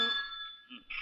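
A short electronic ring with steady tonal partials sounds alone, fading briefly before a second burst starts, like a telephone ringing nearby in a police station.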